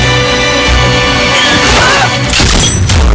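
Gunfire and crashing impacts from a sniper shootout in an Indian action film, loud and dense throughout, with a dramatic music bed and heavier blasts near the end.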